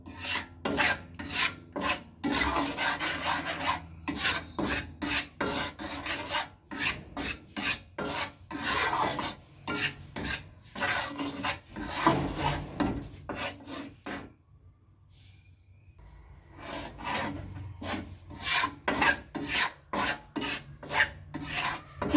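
Gram flour stirred and roasted in a pan for besan barfi, with rapid repeated rasping scrapes of a spoon against the pan, loud and close. The strokes pause briefly midway and then resume in the same steady rhythm.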